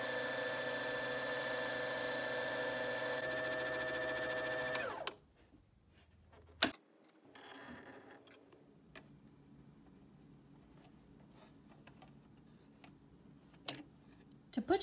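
An EverSewn Charlotte sewing machine winds a bobbin with a steady electric whir that runs for about five seconds and then stops. A few clicks and faint handling sounds follow in near silence.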